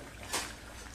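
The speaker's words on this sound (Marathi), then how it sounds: "तेल आता चांगलं गरम झालेलं आहे. आपण करंजी घालूया." A single coconut-filled karanji pastry slips into hot oil, giving a brief soft sizzling burst that fades into a faint, steady bubbling hiss.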